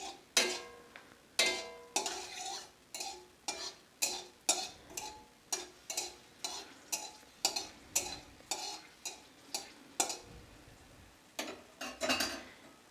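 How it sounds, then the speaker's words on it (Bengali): A spoon stirs two dried red chillies in hot oil in a Bengali kitchen, giving a steady run of light scraping taps against the pan with only a faint sizzle underneath. "তেলটা এবার গরম হয়ে গেছে, আমি দিয়ে দিচ্ছি 2টো শুকনো লঙ্কা।"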